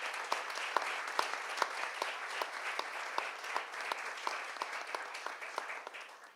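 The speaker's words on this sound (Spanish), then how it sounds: "Pido un fuerte aplauso, que está aquí presente." At an activists' gathering, an audience claps steadily in a continuous, moderately loud ripple of individual claps that carries on evenly for several seconds and eases slightly at the end.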